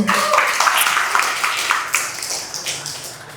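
A stand-up comedy audience claps and applauds for a few seconds, a dense, fairly loud patter of many hands that slowly tapers off.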